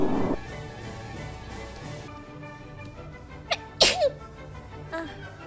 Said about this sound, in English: Oh, I'm sorry, I had to sneeze.